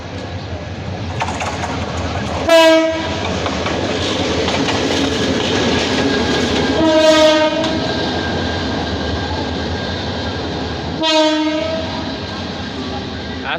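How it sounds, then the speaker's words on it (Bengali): A train at a railway junction on the Dhaka to Kishoreganj route, hauled by a 2925-series engine: a loud, steady rumble broken by three sharp horn blasts spaced a few seconds apart. "আমরা কিন্তু এই ট্রেনটি দিয়ে এসেছি"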